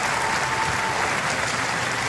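An American tennis crowd applauds after Sam Querrey survives a tight set, a dense, steady wash of clapping from a large audience, sustained and even across the whole stretch, no voices standing out.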